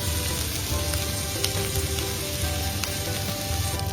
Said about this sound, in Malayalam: ഒപ്പം തന്നെ അല്പം ഉപ്പും ചേർത്ത് നമുക്ക് നല്ലപോലെ ഒന്ന് സോട്ട് ചെയ്തെടുക്കാം.